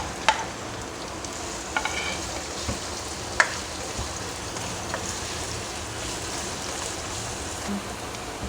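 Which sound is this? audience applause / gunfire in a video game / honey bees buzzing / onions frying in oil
onions frying in oil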